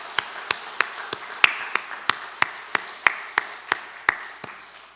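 Rhythmic, evenly spaced claps from what seems a single pair of hands, about three per second, fairly close and clear over a quiet room, offered as applause during a Sunday morning church service.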